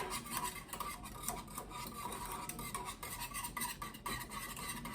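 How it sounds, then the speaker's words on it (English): A spoon stirs hot chocolate in a pot on the stove, a steady continuous scraping and rubbing against the pan bottom with small clinks, fairly close and with no voices. "you want to keep stirring so that the chocolate doesn't just sit on the bottom and burn to the bottom"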